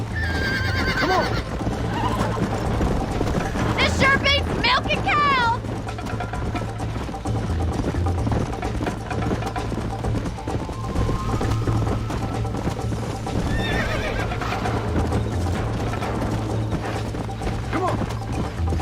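Horse hooves clip-clop steadily while a horse neighs and whinnies in Red Dead Redemption, with a continuous low rumble and scattered mechanical ratcheting underneath, and character voices calling out over the ride.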